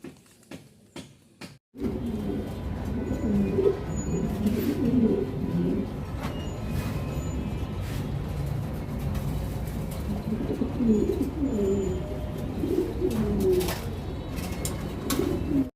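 Rajshahi Giribaz pigeons coo steadily and close by, a dense overlapping chorus of low, throaty calls that keeps going without pause, with a faint rustle at the very start.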